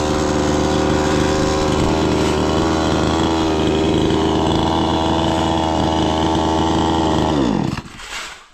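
A loud power saw drones steadily with a high, buzzing motor whine, then cuts off abruptly near the end.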